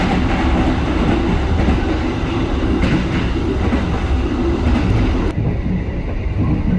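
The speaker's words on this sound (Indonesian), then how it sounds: "ini kereta Kota Jaya Selatan kali ini kok rada telat sih, tapi semoga masih aman, masih keburu" The Kutojaya Selatan passenger train runs on the rails with a loud, continuous rumble and rhythmic clatter heard from on board, steady throughout with a brief change in tone near the end.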